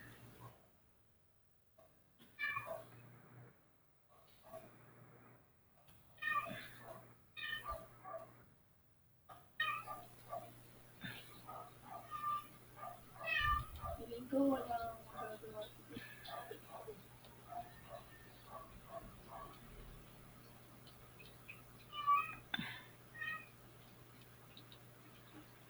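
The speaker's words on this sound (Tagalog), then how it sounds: "Sensya na kayo yung pusa ako naglalambing." A house cat meows again and again, quietly and close by, while someone gives an online statistics lesson and talks over most of it. A steady low hum runs underneath.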